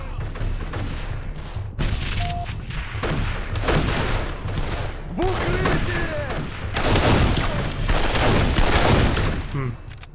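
Mauser C96 broom-handle pistol shots in the Darkest of Days video game, with Germans on the run: sharp, repeated gunshots in quick succession, mixed into a dense, continuous din of battlefield gunfire.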